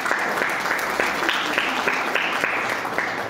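A church congregation claps their hands together in a regular, rhythmic beat that repeats evenly for several seconds, with the many hands forming a full, lively wash of sound.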